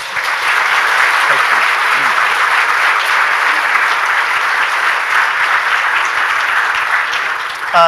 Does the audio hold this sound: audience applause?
yes